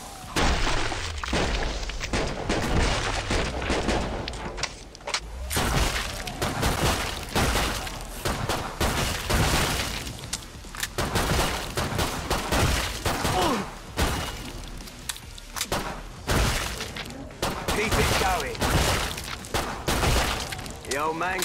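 Relentless gunfire fills a Killing Floor match, with rapid bursts of shots, booms and shattering impacts repeating loudly and densely throughout, with occasional talk mixed in.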